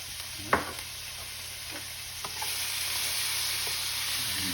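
Shrimp and minced garlic sizzle in butter in a pan as a steady close hiss, broken by a few sharp clicks and scrapes of stirring, with no talking.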